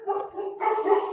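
Two dogs bark outdoors at a moderate distance, a short run of several rough barks in quick succession with no talk over them.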